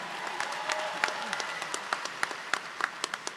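A crowd claps at the Rutgers Business School New Brunswick convocation. The applause is fairly quiet and tapers off, leaving increasingly distinct, scattered individual claps toward the end.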